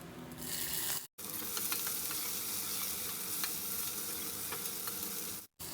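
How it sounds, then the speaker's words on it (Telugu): Onions fry in hot oil with cumin, mustard seeds and fenugreek, giving a steady, dense sizzle with faint crackles, close up, continuous apart from two brief dropouts. "ఈ ఆనియన్స్ని మూత పెట్టి ఆనియన్స్ బాగా వేయించుకుందాము"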